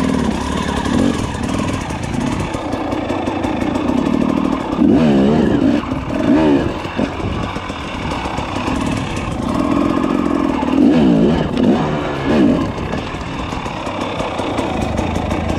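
A motorcycle with a grip decal rides up and over an obstacle off-road, its engine loud and close, revving in bursts and dropping back to a rough idle throughout.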